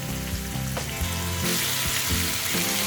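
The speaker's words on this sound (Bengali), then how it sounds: "মিডিয়াম ফ্লেমে চিকেনটাকে প্রথমে একটুখানি কুক করে নেবো" Chicken tangri kebab sizzles and fries in a pan over a medium flame, a steady crackling hiss with occasional clinks and stirring sounds, close and continuous, with no talk.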